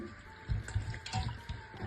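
Water poured from a tap into a pot holding chicken gizzards for a soup, a soft splashing trickle with a few louder gurgling surges, fairly quiet and close, with no talking.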